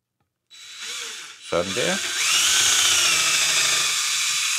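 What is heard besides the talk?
cordless screwdriver drill running at high speed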